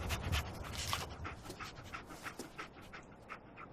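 Dogmeat, the dog in the video game Fallout 4, panting in quick rhythmic breaths, close and moderately loud, with no speech.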